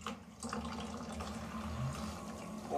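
A tap runs into a container with a low, steady hiss of flowing water, faint and continuous, with no talking.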